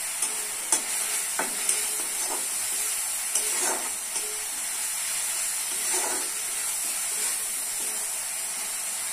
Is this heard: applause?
no